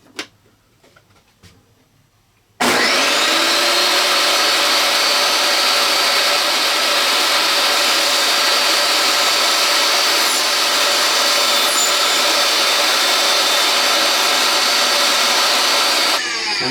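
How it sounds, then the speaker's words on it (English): Power tool cutting off a magnet from a 2-inch laser alignment target for a truck camper, a steady loud grinding whine that starts abruptly after a few quiet seconds and runs unbroken to the end. "I have to cut off this magnet. I can't use it, so I'm cutting it off."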